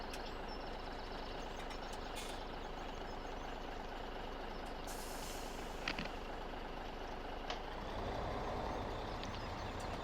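A truck in Farming Simulator 17 idles and rumbles at low volume, its steady engine running under faint clicks and a short hiss before it picks up slightly toward the end.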